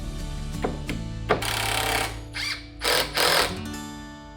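A power driver sinks construction screws into a wooden range hood box, with short whirring bursts and ratcheting clicks over a steady background hum, close and fairly loud.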